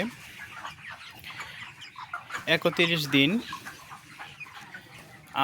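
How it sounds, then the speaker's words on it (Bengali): Broiler chickens, about a month old and grown large, cluck and call in a farm shed, with a short burst of loud fowl calls in the middle and someone speaking over them. "আমার ব্রয়লার মুরগিগুলো মাসাল্লাহ বড় হয়ে গেছে"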